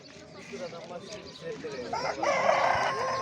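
A rooster crows near the end amid busy chatter at a poultry market in Sungurlu, Turkey, its call rising over the voices and background clucking.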